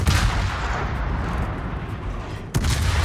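Naval artillery from a warship in World of Warships, played as a Baltimore cruiser: a deep rumbling boom that fades away, then a second sharp blast near the end.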